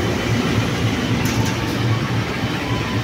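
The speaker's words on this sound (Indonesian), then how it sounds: "Komuter lain Merak ini memakai lokomotif TC 2018901." A KRL commuter train on the Rangkasbitung–Merak line, hauled by a locomotive, heard from on board as a loud continuous rumble with a steady rhythmic clack of wheels over rail joints and no talk.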